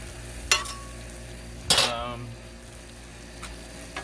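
Tortellini being stirred on a hot Blackstone griddle, with a low steady sizzle and two distinct scraping clinks of a utensil against the metal surface.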